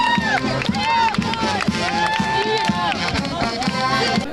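Townspeople in Zhytomyr shout and cheer for returning 95th Air Assault Brigade soldiers, a lively street crowd with overlapping calls close by. The voices rise and fall in bursts as the tired troops move toward the base checkpoint.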